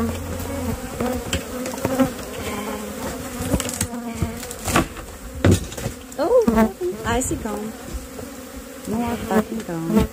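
Bees in a killer bee maze buzz loudly and continuously close by, with droning swells and fluctuating whines as insects pass near, plus occasional knocks and handling sounds.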